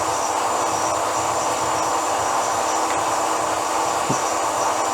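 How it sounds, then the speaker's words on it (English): A saw cuts a length of 1-inch round stock in a metal workshop, a steady unbroken whirring drone at fairly loud level that stays constant throughout. "The noise in the background actually is the saw cutting a piece of this."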